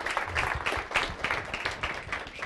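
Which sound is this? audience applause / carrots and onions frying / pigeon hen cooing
audience applause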